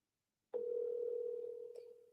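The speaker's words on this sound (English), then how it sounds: "Come on, Giselle, pick up your phone." A steady telephone ringback tone sounds while a call is placed, one sustained tone starting abruptly and fading slightly, with a brief click near the end and no talking.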